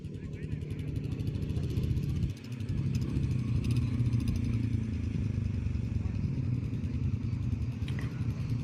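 An ATV bike engine drones steadily nearby with a brief dip midway, its rough motor noise holding throughout; faint voices mix in the background, at Hunder in Ladakh's Nubra Valley.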